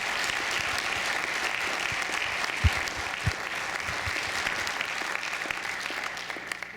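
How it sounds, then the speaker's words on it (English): An audience at a state senate special election debate gives the candidates a round of applause, an even, continuous patter of clapping with a couple of louder claps standing out. "let's have another round of applause for the candidates."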